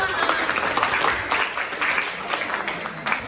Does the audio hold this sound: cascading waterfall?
no